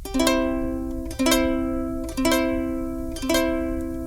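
A ukulele chord is strummed four times in an even beat, each ringing clearly and fading before the next, close and alone.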